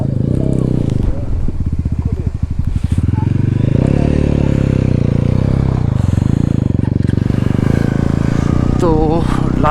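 Hero Xpulse motorcycle labouring in first gear up a steep rocky mountain road at dusk, its engine a loud continuous drone with rattling and clattering over loose stones throughout.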